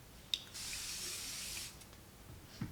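A close, steady mist hiss from an Avene Thermal Spring Water face spray lasting about a second after a small click, then quiet with faint handling noise.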